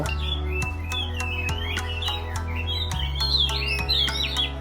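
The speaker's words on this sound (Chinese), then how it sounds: "喜欢听悦耳的鸟叫声吧" Caged songbirds such as red-billed leiothrix and hwamei sing in a Hong Kong bird garden, a run of sweet, warbling phrases and chirps weaving over a steady low hum of crowd and city background.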